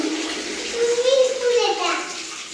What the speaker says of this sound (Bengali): সেই মজা করে স্নান করছো? এত জল?